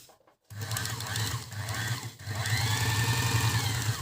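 A Janome Q33 sewing machine with a 60 W motor starts up on its foot pedal and runs steadily with a fairly quiet, rapid mechanical whir and needle chatter, briefly slowing midway.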